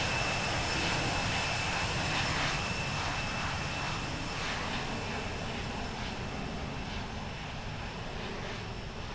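An airliner taxis to parking at Narita in the Infinite Flight simulator, its jet engines a steady, droning whine with a thin high tone running through it, continuous and unvoiced.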